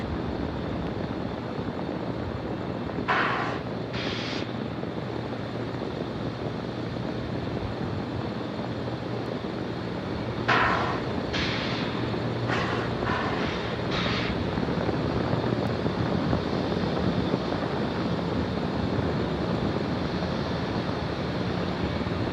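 Liquid oxygen tank of a SpaceX Falcon 9 venting at Space Launch Complex 40, Cape Canaveral, a continuous loud rushing roar that holds steady throughout, with a few short bursts of hiss on top.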